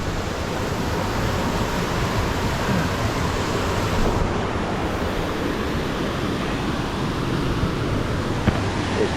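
Creek water rushing near Punchbowl Falls in New South Wales, a loud, dense, unbroken roar that fills the whole stretch with no talking.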